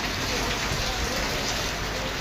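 Heavy rain pours down in Sri Karanpur in a dense, constant hiss, loud and close, with no break.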